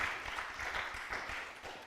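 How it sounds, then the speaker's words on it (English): A conference audience at a performing arts event claps for a speaker named Simiyu, a steady wash of faint, distant applause lasting under two seconds. "Clap for Simiyu."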